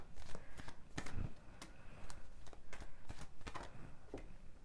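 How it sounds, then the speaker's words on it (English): Wisdom of the Oracle cards shuffled by hand, a steady run of soft riffling flicks and slaps close up for several seconds, quiet and alone. "I'm just gonna pull a couple of these Wisdom of the Oracle cards to close out the reading"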